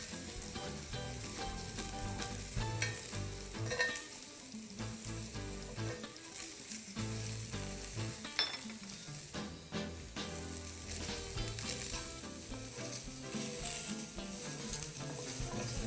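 Spinach sautéing with butter and garlic in a pan gives a steady, continuous sizzle and frying hiss throughout, mixed under constant background music with no talking.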